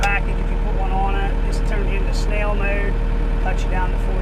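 A 2022 New Holland C332 compact track loader engine runs at a steady, close idle with a constant low rumble, while someone talks over it.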